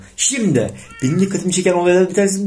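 A cat in the video game Minecraft meows several times in short, close, tonal calls while someone talks over them.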